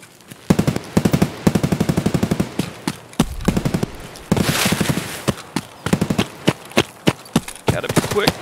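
Automatic gunfire in the video game Escape From Tarkov, with rapid bursts of sharp shots in a steady rhythm, broken by short pauses and then more bursts, loud and close.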